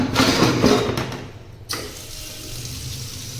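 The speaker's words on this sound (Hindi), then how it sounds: "किचन वाला गीजर चलाया है भाई मैंने" A kitchen water heater (geyser) runs in a home with a steady rush of flowing water, broken by a brief click partway through, then settles into a quieter continuous hiss.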